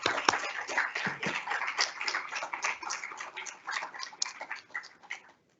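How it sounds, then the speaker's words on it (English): Applause from a modest audience at a retirement income summit, a quiet patter of separate claps that thins out and stops abruptly near the end. "I think an applause is due as well."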